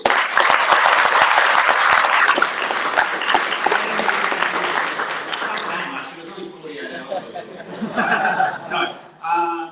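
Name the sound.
applause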